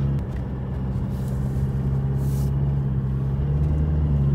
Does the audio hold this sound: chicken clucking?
no